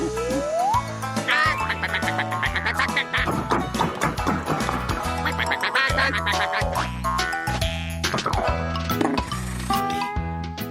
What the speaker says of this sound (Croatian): Zatim je Tom pronašao patke.